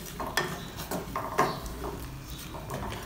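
Chopped potatoes are stirred into a pan of tomato masala for aloo gobi, giving scraping spoon strokes against the pan with soft knocks and a faint sizzle underneath, close and moderately quiet.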